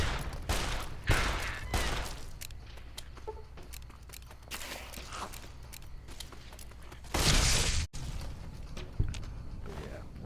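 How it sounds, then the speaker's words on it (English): Several sharp .357 Magnum shots ring out in Fallout New Vegas, spaced irregularly among quieter game ambience, with one loud burst near the middle and faint talk underneath. "As opposed to the usual varmint rifle, we're carrying a 357 Magnum"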